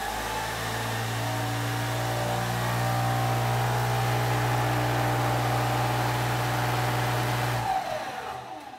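A 24-volt motor like those used in combat robots drives the wheel of a lure coursing machine on a bench, spinning up to a loud steady whine. The hum holds strong for several seconds, then cuts off abruptly.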